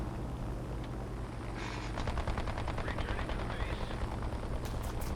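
An aircraft's machine gun fires in a video game, a rapid rattling burst lasting a couple of seconds over a constant low engine drone.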